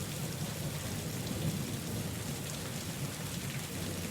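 A thunderstorm's rain hisses steadily and evenly, with a low rumbling undertone running beneath the downpour and no voices.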